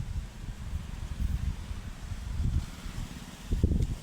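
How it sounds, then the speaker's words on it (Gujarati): Strong gusty wind blowing across a farm, buffeting the microphone in uneven low rumbling surges that swell toward the end. "કેવો પવન આવે."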